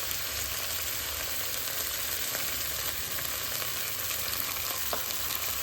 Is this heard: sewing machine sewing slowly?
no